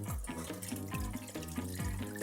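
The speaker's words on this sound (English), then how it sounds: "I'm just going to pour the cabbage through here so I can sieve out and just get the liquid itself" Boiled cabbage liquid is poured through a sieve into a clean pot, giving a close, steady splashing trickle with repeated gurgling surges.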